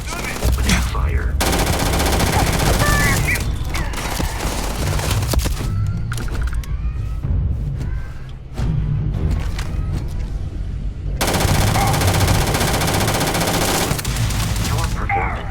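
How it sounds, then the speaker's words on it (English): Machine gun fire in a video game, loud sustained automatic bursts that drop away through a quieter middle stretch of scattered shots, then return at full intensity. "Opening fire."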